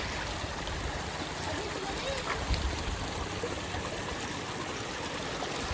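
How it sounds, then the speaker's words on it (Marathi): A small stream gurgles and trickles continuously outdoors near village fields, a soft steady wash of running water with no talking. "इथं खलखल खलखल आवाज झरायचा"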